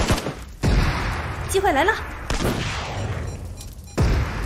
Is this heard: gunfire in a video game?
yes